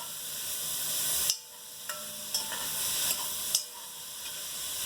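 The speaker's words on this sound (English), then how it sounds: "all the vegetables are incorporated and sizzling together" Vegetables for zucchini soup, including a sweet Vidalia onion, sizzle steadily in a pot with a bright continuous hiss, broken by several sharp clacks and scrapes of stirring, close and without talk.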